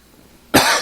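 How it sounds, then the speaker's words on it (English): A single sharp, close cough from a podcast host, bursting suddenly out of near silence and trailing off. "but I cough all the time"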